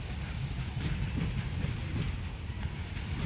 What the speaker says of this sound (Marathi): मालगाडी चालले